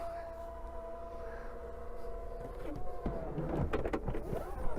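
Powered tailgate motor whirring steadily on a seven-seat Chinese SUV as it tries to close against the third-row seats, then straining and clunking with rising mechanical noise near the end.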